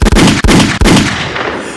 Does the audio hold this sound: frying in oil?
no